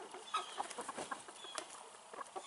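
Backyard chickens cluck softly and intermittently, a few birds murmuring close by in a quiet, low-level farmyard scene.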